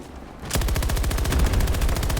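Rapid automatic gunfire from a Battlefield 2042 match bursts in after a brief quiet moment, a steady loud stream of close shots continuing to the end.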